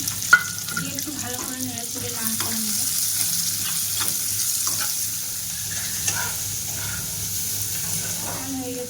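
Chopped onions fry in a pan for a pumpkin and egg curry, giving a steady close sizzle with a faint watery crackle and occasional light clinks throughout.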